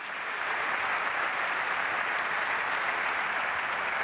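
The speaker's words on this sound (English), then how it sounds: "Now you can clap your hands for them." Audience applause at a conference event on car sales in the metaverse, a dense, even wash of clapping from a sizable crowd sustained throughout.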